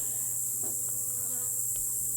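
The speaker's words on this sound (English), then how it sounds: "A lot of bees though." A constant high-pitched buzzing of many honey bees at an open hive fills the air, close and steady, with faint rustling beneath.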